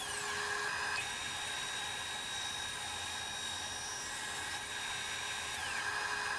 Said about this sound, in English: I'm cutting the tenon in the leg, the top of the leg that will go into the workbench top here, using the dado blade.